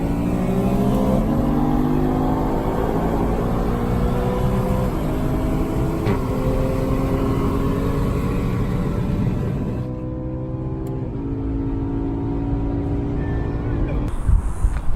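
A 2020 Toyota Supra engine revs and accelerates hard in a street race, pitch climbing through gears in repeated rising sweeps, loud and close, easing off near the end.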